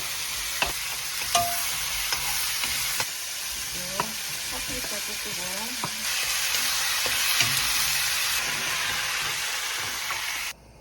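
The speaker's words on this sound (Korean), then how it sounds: "버섯부터 먼저 볶겠어요 소금을 양파를 볶고 당근을 먼저 볶고" Mushrooms, onion and carrot stir-fried in a pan for a beef, shrimp and vegetable dish, giving a steady loud sizzle with scraping stirs and clacks of a utensil throughout, and no talking.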